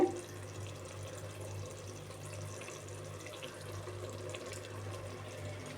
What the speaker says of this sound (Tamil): இப்போ இந்த ஸ்டேஜில் நம்ம நெய்யை ஊற்ற போகிறோம்.